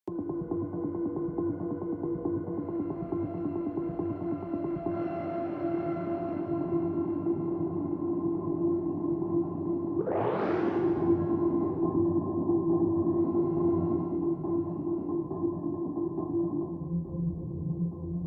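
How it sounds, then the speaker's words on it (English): A reverb in Ableton pitched up six semitones gives a sustained, droning tonal wash with a rising swept shimmer near the middle, steady and alone with no talk. "by pitching up the reverb 6 semitones"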